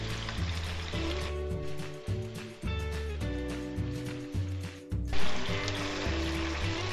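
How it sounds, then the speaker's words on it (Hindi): Chicken pieces frying on a high flame in a karahi, a steady loud sizzle and crackle with bubbling oil, the pan shifted now and then for a brief clatter, running continuously throughout. "आपने इसको हाई फ्लेम पे फ्राई करना है। चिकन फ्राई हो रहा है"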